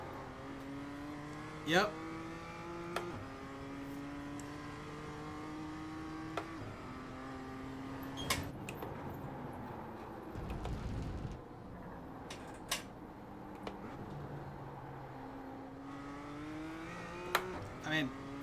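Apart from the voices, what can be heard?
race car engine on throttle in sim racing video game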